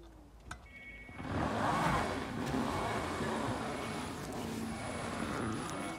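A Nissan Leaf electric car reversing, its smooth whirring hum rising after a click and holding steady at close range.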